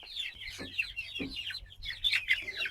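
Coloured broiler chickens on a poultry farm cluck and squawk close by in short, repeated bursts as they are caught, several birds calling over one another with no talk.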